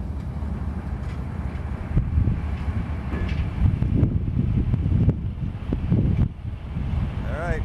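Wind buffets the microphone in rough, low gusts that keep surging and fading, with a voice partly heard underneath.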